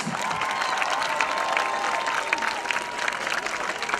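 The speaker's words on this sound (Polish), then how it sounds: "Raz jeszcze wielkie brawa." Crowd applause and cheering after a touchdown at an American football game between Lowlanders Białystok and Warsaw Sharks, a steady, dense clapping that fills the whole stretch at moderate distance.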